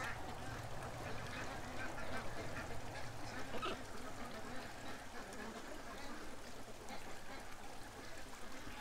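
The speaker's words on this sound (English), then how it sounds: "there's a lot of happy ducks right now" Happy ducks in a yard, a continuous chorus of quacking and honking at moderate distance, steady and layered, with some background noise.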